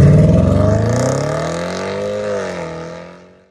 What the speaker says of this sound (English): This SVR gets the 5-litre supercharged V8 out of the Jaguar F-Type, which means it sounds like this